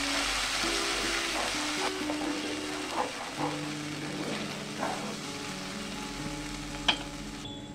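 Spiced paste for chana paneer sizzles steadily in a hot pan, a continuous close frying hiss with a few soft stirring knocks and scrapes, no voices.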